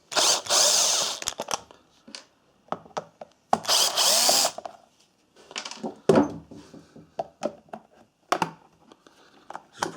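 Bursts of a small electric screwdriver or drill working the tri-wing security screws out of an electric kettle's plastic base cover, with whirring runs near the start and middle, then clicks, rattles and handling noises of parts being moved.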